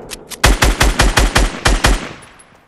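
Rapid automatic gunfire in a Fortnite match shooting down a player's built structures, a loud close burst of about eight evenly spaced shots followed by a short fading tail.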